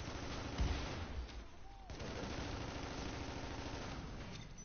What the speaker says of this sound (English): these shotguns are ripping, man